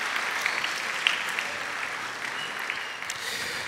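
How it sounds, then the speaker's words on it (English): Audience at a high school bands' Christmas concert applauding the band families: steady, dense clapping from a seated crowd, moderately distant and even, with no talking over it. "So please give our families a huge round of applause."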